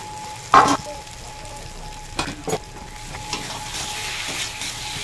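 Spice masala sautéing in a pan for a katla fish and pointed gourd curry gives a soft, steady sizzle, with a sharp clatter near the start and a couple of quick scraping stirs later.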